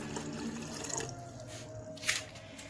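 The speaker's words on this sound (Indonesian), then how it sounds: "Oke, kita bisa tambahkan airnya." Water poured into a cooking pot, a soft continuous trickle and splash with a few brief droplet accents, close and fairly quiet, with no talking.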